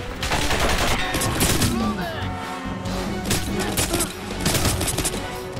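Enemy mounted gun firing in Crysis Remastered, rapid bursts of heavy gunfire that rattle on and off in repeated volleys at moderate loudness.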